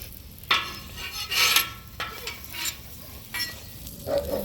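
Cinnamon roll mini donuts with melting glaze cook on a Blackstone griddle with a steady faint sizzle, broken by a few louder scraping and spatula clinks, with no voices.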